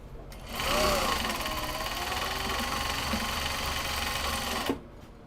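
A sewing machine runs steadily, stitching a small box bag, its fast whirring motor continuous for several seconds at moderate level before stopping abruptly, with no speech over it.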